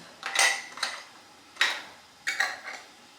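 Metal screw lids for canning jars clink together as they are handled, giving a few short, bright metallic taps close by, spaced irregularly with brief pauses and no talking.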